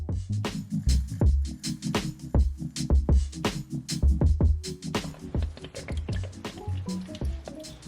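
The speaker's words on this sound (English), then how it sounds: "You guys can probably hear the oil coming out." Motor oil drips and splatters irregularly into a drain pan beneath a Toyota Land Cruiser, a rapid series of close, wet plopping drops continuing throughout.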